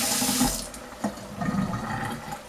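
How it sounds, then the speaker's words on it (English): Tap water runs into a sink while hands are washed under it during pizza dough preparation in a home kitchen, a steady close splashing stream with brief louder bursts. "We're gonna wash our hands."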